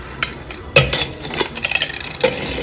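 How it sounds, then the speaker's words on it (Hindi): A pressure cooker lid being closed over mung and masoor dal with tomatoes, heard as a few sharp metallic clanks and clinks with light scraping between them, close and moderately loud, no voices. "और हम कुकर को बंद कर देंगे"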